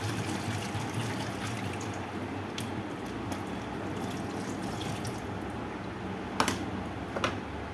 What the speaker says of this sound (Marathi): आता मिरची पण धुवून घेणार आहे.